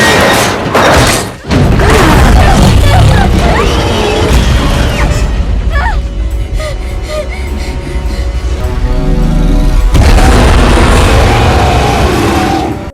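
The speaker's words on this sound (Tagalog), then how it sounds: "Habang nagigising din si Mills, isang napakalaking dinosaur ang dumating at sinimulang salakayin ang pod" A huge dinosaur attacks and crashes into a crashed spacecraft's escape pod, with loud heavy impacts, thuds and booms crashing together over a dense, continuous rumble for the whole stretch.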